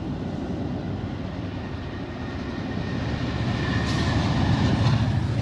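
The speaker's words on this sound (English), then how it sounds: "Oh, there's a train." A train passing by at a homeless camp in the USA, a steady broadband rumble and rattle that grows gradually louder and nearer across the stretch, with no talk over it.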